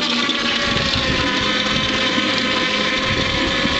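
Toy electric quad with twin throttles running at speed, giving a steady whining motor drone close to the microphone, with some wind noise and no talking.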